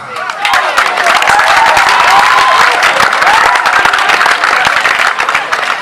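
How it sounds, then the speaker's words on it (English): An audience at a cultural dance competition claps and cheers loudly and continuously, a dense crowd roar with scattered shouts throughout. "Who are those clapping?"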